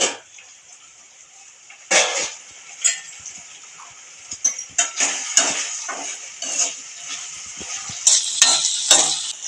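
Ivy gourd curry frying in a pan, with a bright, steady sizzle broken by repeated bursts of stirring and scraping. Close and fairly loud, with no voices.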